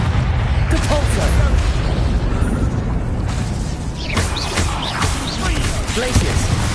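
Depulso spell cast in Hogwarts Legacy, a loud dense burst of magical whooshes and mechanical booming with rattling impacts throughout, under ongoing game effects.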